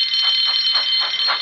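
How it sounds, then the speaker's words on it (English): A continuous electronic alarm tone rings loud and steady for the whole moment, with a rhythmic pulsing wail underneath, sounding alone with no talk. "Soon came the alarm."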